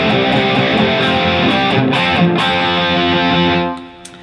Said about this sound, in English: I'm basically doing the boogie woogie rhythm on the A